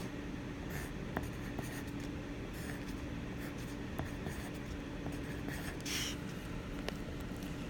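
Pen strokes scratch across paper in a steady, faint stream while metric unit conversions are worked out, with occasional small taps over a constant low room hum; no voices are heard.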